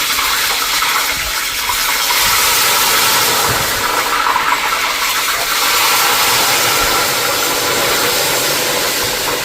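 Ghevar batter streams into hot oil, producing a steady, loud sizzle and frothy hiss that holds without pause throughout.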